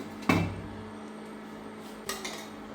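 A metal lid clanks sharply onto a pot of boiling eggplant for a fish dish, then rings briefly. A second, softer clink of the lid settling follows a moment later.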